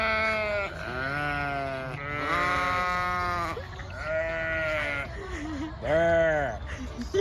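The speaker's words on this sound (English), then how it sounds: "See the sheep, Jakey?" Sheep bleating at an activity farm, several long wavering bleats following one another, close and loud against outdoor background noise.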